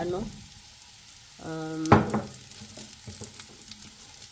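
Ingredients being sautéed in a pan just used to cook salmon, with a short scraping, stirring burst midway and low sizzling and clinks before and after, fairly quiet and close.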